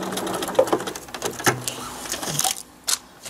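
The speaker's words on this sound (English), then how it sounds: "now I know I'm going to sew on the line between A1 and A2" Sewing machine stitching a paper-pieced quilt block along a marked seam line, a quick continuous mechanical whir up close that stops abruptly near the end.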